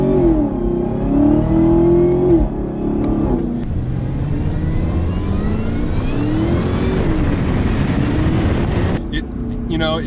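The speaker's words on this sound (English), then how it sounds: "I'm actually gonna kind of run through a couple of gears here with the paddles" A 2019 Chevrolet Camaro ZL1 1LE engine climbs in pitch through several paddle-shifted gears, each rise cutting back at the shift, loud and close with someone talking over much of it.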